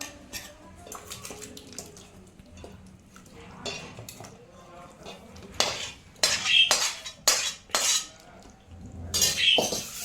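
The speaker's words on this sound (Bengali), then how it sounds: "তাহলে অন্য একটা পাত্রে ট্রান্সফার করে নিচ্ছি আমি রান্নাটা।" Mixed vegetable korma curry scooped from a cooking pot into another pot, with clinks and scrapes of a metal spoon against the vessels, soft at first and then louder in several sharp bursts toward the end.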